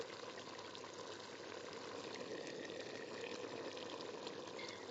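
Water being poured into a pot of mutton stew with browned spices, a steady, quiet continuous splashing and gurgling stream lasting the whole stretch, with no talk.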